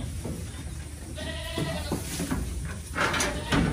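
A Boer goat bleats loudly nearby on a farm, a wavering cry rising over steady outdoor background noise, followed by more bleating toward the end.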